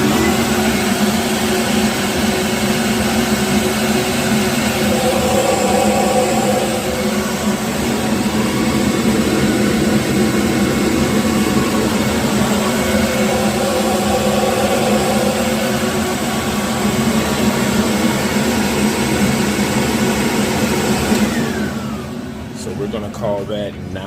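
A flow bench pulls air through the throttle body of a Holley Systemax 2 intake manifold, producing a loud, steady rushing roar that holds for over twenty seconds before cutting off near the end.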